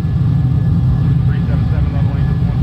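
In a flight simulator, an F-14 Tomcat climbs out with its jet engines on afterburner, a loud, steady low roar and rumble that holds without a break throughout.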